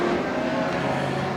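Four-cylinder front-wheel-drive race cars roar around Thunder Mountain Speedway during a feature race, a loud, continuous engine drone with steady pitch and no break.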